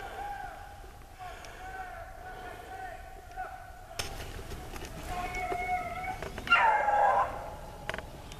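Dogs yip and whimper faintly in the distance outdoors, a few scattered cries rising near the end, with people talking under and around them.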